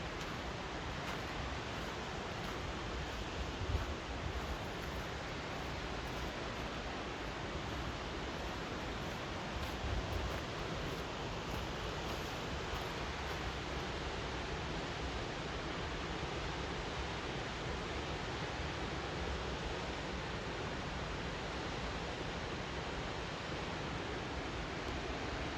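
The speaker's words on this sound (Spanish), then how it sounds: "se puede apreciar la cascada" Waterfall rushing in Sunland, California, heard as a faint, distant, continuous hiss of falling water, steady and unbroken throughout with no voices.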